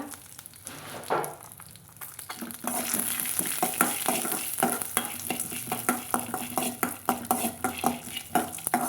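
Raw peanuts stirred and roasted in a pan for a banana flower poriyal, with a soft steady sizzle under repeated scraping and clinks of a spoon against the pan, close and fairly quiet.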